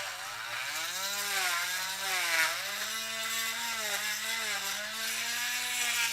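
A drill boring a hole, its motor whining steadily with small pitch wobbles as the bit works through, close and continuous with no talking.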